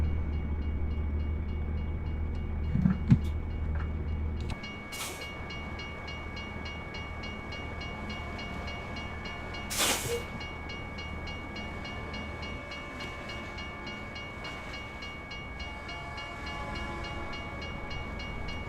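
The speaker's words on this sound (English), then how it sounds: "I hear a train. Or I hear a train crossing." A long train rolls past a railroad crossing in a truck-driving simulator game in British Columbia, with a low rumble that drops off, steady tonal ringing, and a loud horn blast midway over continuous rail noise.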